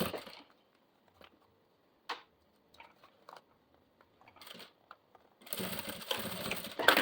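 A sewing machine stitching a half-moon pouch, with scattered clicks and light handling taps before a loud, steady run of stitching near the end, close by and without talk.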